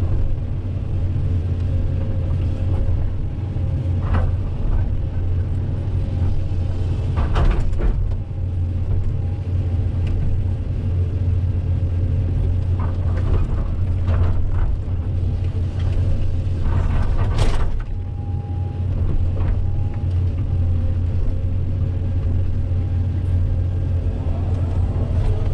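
A Komatsu PC-200 hydraulic excavator works earth nearby with a loud, continuous diesel drone, marked by occasional clanks and bursts of revving.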